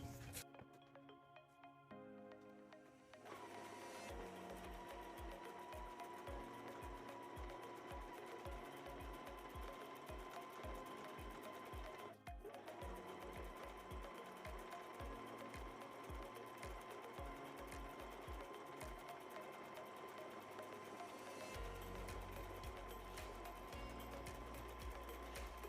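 A sewing machine runs a zigzag stitch along a fabric edge for a faux serged finish, whirring steadily with a rapid rhythmic needle chatter close by. A brief start and pause come before the long continuous run, and no one speaks.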